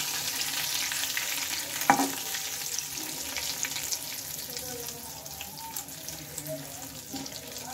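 A bay leaf and a dried chili fry in hot oil as a tempering, giving a steady close sizzle with a sharp clink near the start and softer stirring after.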